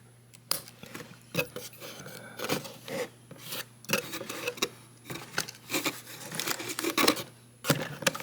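Scissors cutting the plastic bindings on a packaged Transformers Studio Series Commander Class Optimus Prime figure: close, irregular snips, rasps and rubbing of plastic and cardboard, with no talking.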